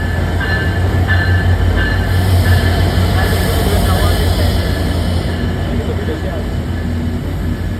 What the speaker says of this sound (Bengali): অবশেষে অপেক্ষা করতে করতে বৃষ্টি মাথায় নিয়ে আমাদের স্টেশনে প্রবেশ করে গেল আন্তনগর সুন্দরবন এক্সপ্রেস।